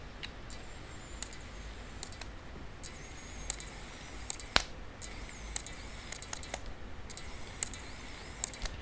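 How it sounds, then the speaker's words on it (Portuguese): Faint high-pitched whirring with scattered sharp little clicks at irregular intervals, the autofocus motor of a Nikon AF-S VR Nikkor 28-300mm f/3.5-5.6 ED lens driving and stopping, quiet and close. "E o foco automático com a AFS, você escuta um barulhinho quase ultrassônico"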